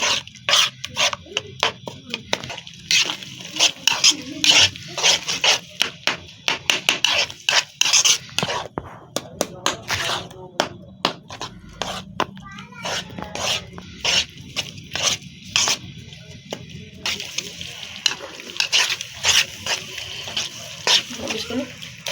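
Guava sweet mixture being roasted and stirred in a pan, with repeated rhythmic scraping and rasping strokes of a spoon against the pan bottom, close and continuous, while a voice talks intermittently.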